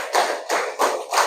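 Sharp group hand claps from a class in a counted pattern, four evenly spaced bursts, close and loud, no voices.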